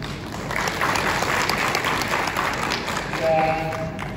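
An audience at a school competition event gives a burst of clapping, loud and sustained for several seconds, with voices mixed in under the applause.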